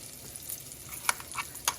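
Blended masala paste frying in hot oil in a pan for okra masala, a soft steady sizzle with a few brief crackling pops.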